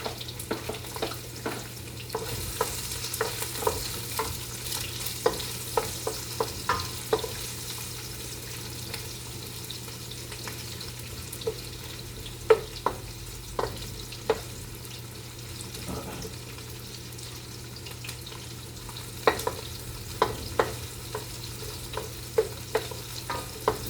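Chopped onion sizzles steadily in a hot pan for soup, with frequent sharp scrapes and clacks of a stirring utensil scattered throughout, close and moderately loud with no talking.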